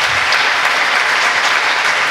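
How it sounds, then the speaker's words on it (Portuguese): A church congregation applauding during a Pentecostal sermon, a thick, steady burst of many hands clapping together, loud and continuous without speech. "Aplauda o Senhor."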